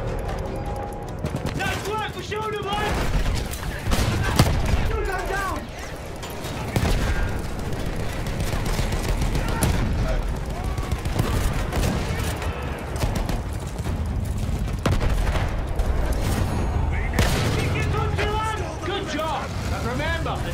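Gunfire from a Battlefield 1 campaign battle, steady rattling bursts mixed with engine rumble and other battle noise, loud and dense throughout, with voices shouting over it.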